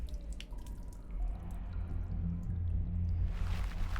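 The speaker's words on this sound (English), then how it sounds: "Water the soil." Soil being watered in the point-and-click game The Excavation of Hob's Barrow, a continuous wet pouring and dripping wash that holds steady and swells slightly near the end, with no talking.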